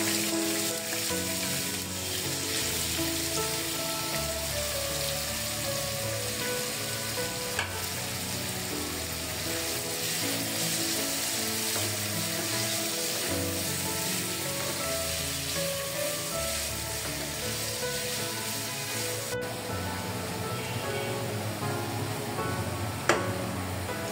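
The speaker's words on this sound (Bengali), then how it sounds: "আমি এখন গাজর ভাজবো।" Steady, dense sizzling of carrots frying in hot oil, continuous and close with occasional stirring clinks, no voices.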